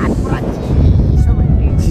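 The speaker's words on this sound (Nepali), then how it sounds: "यहाँ हावाले एकदमै बिजो" Strong wind at the Deurali View Tower in Lalitpur buffets the microphone with a loud, continuous low rumble and gusty roar, and a voice is partly heard through it.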